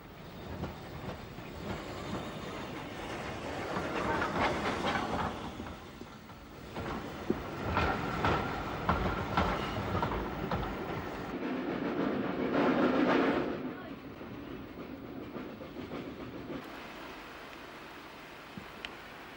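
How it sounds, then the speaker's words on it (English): A steam train passes Wittersham Road station, wheels clicking rhythmically over the rails as the rumble swells twice and fades, heard fairly faint from the lineside. "Several trains passed through Wittersham Road that day"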